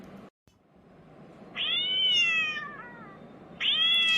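A cat gives two clear, drawn-out meows close by, the second starting after a short pause, over a quiet background with no talking.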